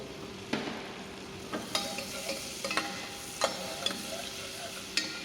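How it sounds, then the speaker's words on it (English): Chopped onions and garlic sautéing in a pan for chicken pilaf, a soft steady sizzle punctuated by repeated sharp utensil taps and scrapes at irregular intervals, no one speaking. "Now we have to add this chopped onions. Saute it also."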